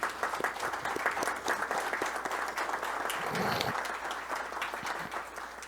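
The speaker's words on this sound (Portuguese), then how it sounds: "eu quero que vocês deem uma salva de palmas" An audience at a lecture on education and democracy gives a sustained round of applause, dense and steady clapping from many hands that continues throughout at an even level.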